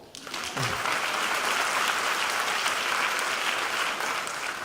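A high school graduation audience breaks into loud, sustained applause for the class of 2016, many hands clapping densely and evenly after a quick start.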